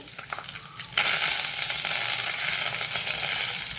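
Chana dal, urad dal and curry leaves fry in hot oil for a South Indian carrot sajjige. A soft crackle jumps into a loud, steady sizzle partway through and holds, close and continuous, with no voices.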